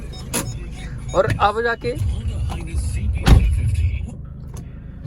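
A manual car pulling away as the clutch is eased out, a low steady engine rumble inside the cabin with a soft thud, under a man's speech.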